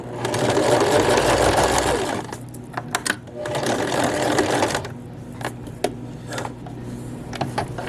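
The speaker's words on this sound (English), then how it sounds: "Sew until you reach the beginning, and then overlap your stitches and end with a back stitch." A sewing machine stitches an elastic waistband on a skirt, ending with overlapping back stitches: a steady two-second run of close mechanical whirring, a pause, another sustained run, then several short clicking bursts.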